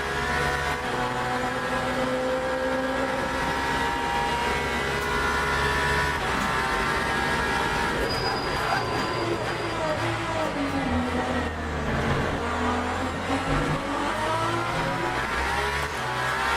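A race car engine in the sim racing game Le Mans Ultimate drones steadily at high revs, rising and falling through corners as the car squirms for traction, with a driver talking over it.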